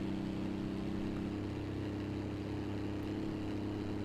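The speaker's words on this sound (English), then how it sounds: "As you can hear, this thing just bogging down." In a BeamNG driving game, a struggling vehicle engine drones low and steady as it bogs down climbing a hill, a strained, even hum with no other sounds.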